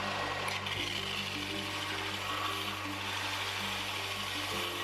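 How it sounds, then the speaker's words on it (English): Belt sander grinding a forged carbon fiber piece with a geode set in its center, a steady close motor drone with a dense abrasive hiss running continuously and evenly throughout. "Properly cured carbon fiber sands easily, but the geode in the center was not impressed by my belt sander."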